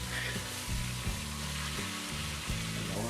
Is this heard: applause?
no